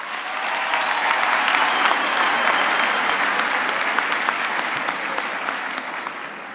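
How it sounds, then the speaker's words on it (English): Audience applause at a university graduation ceremony, a dense, steady wash of many hands clapping that swells in quickly and holds at an even level throughout. "Can I have a hand of applause for those people as well?"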